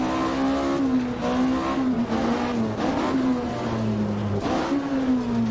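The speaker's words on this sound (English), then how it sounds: "Engine, I don't know if it's actually sounding rough, but it sounds rougher to me than it did before." A rally car engine in the game Richard Burns Rally holds a high, droning rev that rises and dips with gear changes, loud and continuous with no voices.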